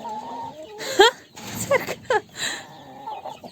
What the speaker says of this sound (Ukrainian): що билися кури, комедія і цирк на дроті